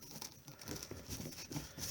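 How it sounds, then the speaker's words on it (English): A Magic: The Gathering Commander deck being shuffled by hand, giving a soft, continuous papery riffling and crinkling with repeated small bursts, close and fairly quiet, with no talking. "Do a quick shuffle just to keep everything on the up and up here."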